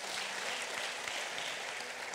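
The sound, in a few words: audience applause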